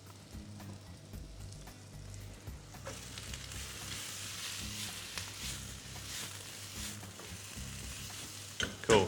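Vegetables stir-fry in a hot pan for a five-spice chicken dish. A quiet sizzle swells into a fuller, continuous frying hiss when more food goes in, with stirring scrapes and a clatter at the end.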